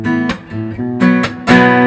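An acoustic guitar closes verse 3 of a song in a live acoustic style, with a short run of plucked bass notes and sharp strummed chords building to a final ringing strum, close with no voices.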